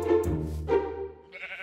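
A Minecraft PE sheep bleats two or three short, nasal cries in quick succession after being struck by hand, close and clear with no talking.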